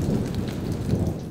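Rain and a thunderstorm: dense, steady rainfall with a low rumbling undertone, loud and continuous through the brief moment.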